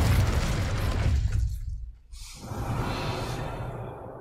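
Fiery spell blasts of Confringo and Incendio cast in a Harry Potter video game, a loud roaring burst with crackling debris that dips briefly to near silence before another sustained rumbling blast follows.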